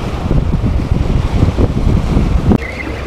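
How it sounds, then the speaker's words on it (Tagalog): Strong wind buffets the microphone on a boat fishing for grouper in murky water on Manila Bay, a steady loud rumbling roar with a brief thump near the end and no talk. "Tapos malakas pa yung hangin."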